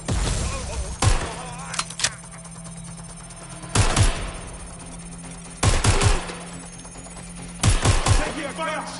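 Gunfire in the game Watch Dogs: Legion, heard as loud bursts of rapid shots repeating about every two seconds, with quieter humming and game sounds between bursts.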